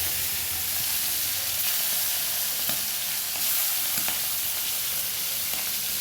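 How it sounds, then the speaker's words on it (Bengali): Hilsa fish heads frying in hot oil to a crisp, a steady loud sizzle and crackle running the whole time, with a few sharp spatters and pops breaking through, no voices. "চলো মাথাগুলো একটুখানি ভালো করে কড়া করে ভেজে নিচ্ছি।"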